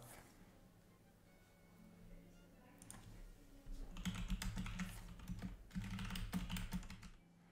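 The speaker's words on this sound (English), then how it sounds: "I was a little bit typing chat" Quick bursts of typing clatter on a computer keyboard during a Hearthstone game session, soft at first and then busier clicking in two clusters, with faint background talk.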